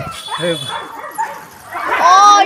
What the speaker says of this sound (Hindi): कुत्ते लड़ गए